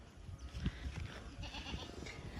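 Goats bleating in a pen on a goat farm, several overlapping calls against steady barnyard noise, fairly close and moderately loud with no talking.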